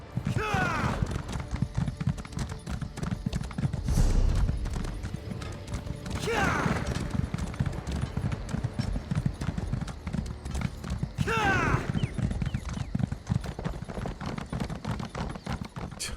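Horse hooves clip-clop rapidly as a mount gallops in the Elder Scrolls Online video game, a continuous drumming rhythm with occasional louder thuds and bursts, accompanied by game music and effects.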